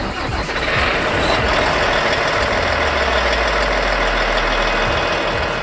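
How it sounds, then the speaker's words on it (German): A 16-litre, 796 hp Volvo diesel in a ROPA sugar beet harvester runs loud and close at a steady idle, and a deep low rumble builds in about halfway through. "Ein 16-Liter Volvo-Motor, der mit seinen 796 PS massive Leistungsreserven für anspruchsvolle Rodebedingungen bereithält."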